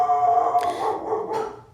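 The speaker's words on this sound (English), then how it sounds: "sorry about my dog" A dog barks a couple of times nearby, loud and close, with a faint whine between the barks and no talking.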